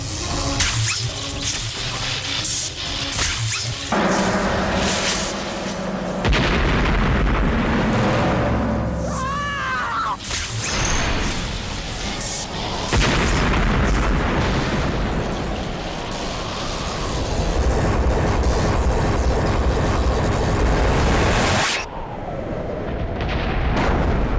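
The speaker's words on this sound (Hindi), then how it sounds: "धमाका हुआ, धमाका।" A dense, loud barrage of blasts, booms and crackling bursts fills the whole stretch without pause, from a fantasy children's TV superhero episode in which a magical evil device is destroyed.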